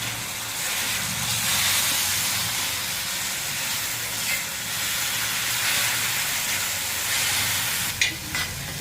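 Egg masala with onion, garlic, green chillies, ginger and coriander fries in a pan, giving a steady, close, broadband sizzle and hiss that runs without a break, with a couple of faint clinks near the end and no voices.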